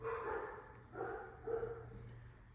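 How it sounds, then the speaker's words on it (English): Several dogs bark at a distance, faint and muffled: a few scattered barks and yips over a low steady hum, with no one talking. "You hear my dogs barking?"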